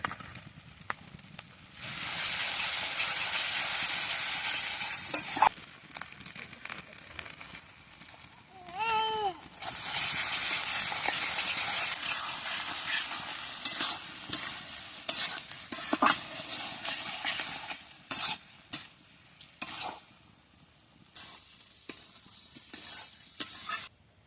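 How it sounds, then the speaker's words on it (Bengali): Spices go into onions already fried in a pan, giving intermittent bursts of bright sizzling with stirring scrapes between quieter stretches, moderately soft and close. "পেঁয়াজটা আমার ভাজা ভাজা হয়ে গেছে, এবার বাকি মশলাগুলো এর মধ্যে দিয়ে দেবো।"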